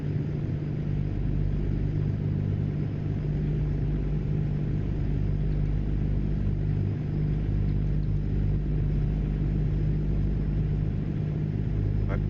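Simulated heavy truck engine in American Truck Simulator, a steady loud low rumble droning continuously with slight surges and no clear shift break, alone without talk.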